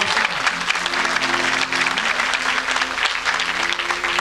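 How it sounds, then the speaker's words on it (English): Loud, close applause at a concert, energetic clapping and faint crowd murmur, continuing steadily throughout over a low sustained musical tone. "put your hands together with a big round of applause"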